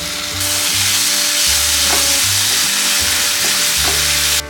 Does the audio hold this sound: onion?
yes